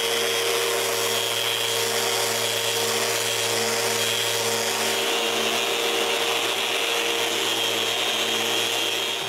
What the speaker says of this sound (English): When I'm done, I clean the grooves and sand the panels.